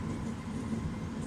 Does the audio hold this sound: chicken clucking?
no